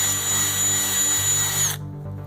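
A power drill bores straight through two aligned holes, running as a steady loud whine for under two seconds before cutting off abruptly, leaving a faint low hum.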